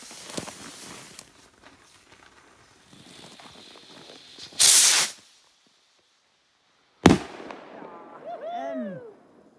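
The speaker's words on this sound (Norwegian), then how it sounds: "Pinnerakett fra 2007." Stick rocket fireworks from 2007 set off on New Year's Eve, with two sharp loud bursts of launch and bang separated by a pause, followed by a faint hiss and whistle, with quieter activity and voices around.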